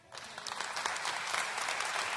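Audience applause at a clean comedy show, a steady wash of clapping from a crowd that swells and holds for a couple of seconds without any voices.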